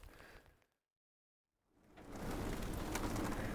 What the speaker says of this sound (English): it is blowing out there. And it's been blowing all night. And raining.